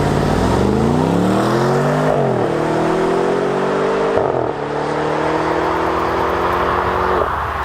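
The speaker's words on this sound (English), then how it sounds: "it's got an engine note that you can change from subtle to pretty" A 2018 BMW M550i xDrive engine revs loudly and steadily, pitch climbing and shifting through gears, close and continuous with no voices.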